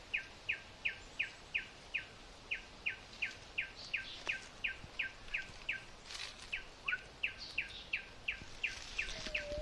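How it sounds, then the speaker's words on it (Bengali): A malkoha calls from a bush in North Bengal, giving a long, steady run of short, evenly spaced chirps, about two or three each second, clear and moderately distant over faint outdoor background. "এই ঝোপের ধারে আমরা একটা পাখির আওয়াজ পাচ্ছি, যেটা শোনালাম আপনাদের। তো আমার আন্দাজ বলছে ওটা মালকোহা"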